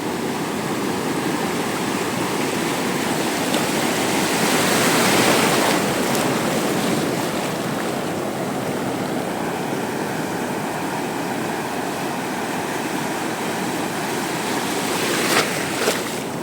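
Sea waves crash and wash against a fishing boat off the Konkan coast, a loud continuous roar of surf with one stronger surge midway and a few faint knocks near the end.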